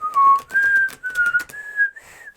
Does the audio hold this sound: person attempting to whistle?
yes